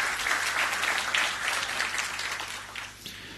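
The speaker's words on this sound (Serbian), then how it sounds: "Pozdravimo jednim aplauzom sve pokrovitelje i sponzore festivala." Sustained applause from an audience at the opening ceremony of the 28th International Festival of Small Stages and Monodrama in Republika Srpska, a dense, steady clapping that swells and then tapers off near the end.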